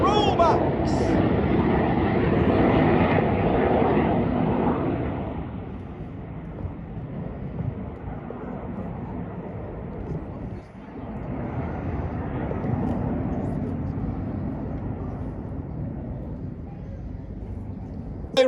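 RAF Red Arrows jets roar past during the rollbacks manoeuvre of their 2025 display at RIAT, a loud broadband rush that eases a little after a few seconds and then holds as a steady distant drone.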